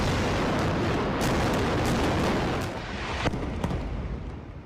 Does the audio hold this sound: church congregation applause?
no